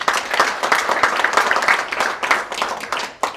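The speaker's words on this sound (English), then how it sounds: "A big hand of applause for Mercy." An awards-ceremony audience applauds for Mercy, a steady dense patter of many hands clapping nearby with a few louder bursts, fading slightly before a final short swell.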